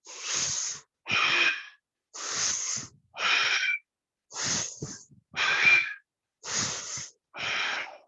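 Repeated deep, audible breaths during a yoga stretch, eight breathy bursts in an even rhythm with short silent gaps between them, close and clear with no speech.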